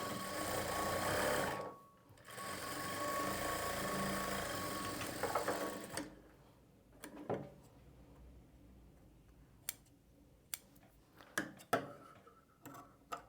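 A sewing machine runs steadily for several seconds, stitching a straight line along the side seam of a blouse, then stops. Scattered faint ticks and clicks follow in a quiet room.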